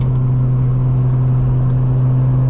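Tuned 8th-generation Honda Accord with a 3.5L V6 running on 91+ fuel drones loudly and steadily from inside the cabin on a backroad, a constant heavy engine hum with no talk.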